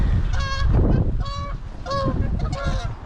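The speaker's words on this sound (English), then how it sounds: "If all these geese decided to gang up on me, they would have their way with me." Geese honk repeatedly near a fishing spot, several loud nasal calls close by in an irregular series over a busy rumbling outdoor background.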